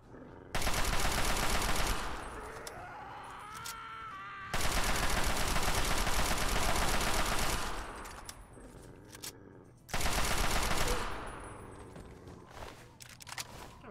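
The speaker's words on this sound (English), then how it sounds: "And now you're trying to shoot me." Gunfire in the Fallout 3 game on PC: three loud, dense bursts of rapid automatic fire, each lasting a few seconds with gaps of quieter echoing combat noise between them.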